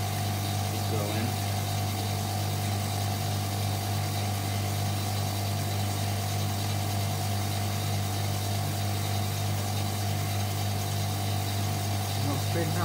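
A Hotpoint Supermatic De Luxe 9414W twin tub washing machine runs its motor with a steady, constant low hum and mains-like drone, failing to spin up properly, while quiet talk sits in the background.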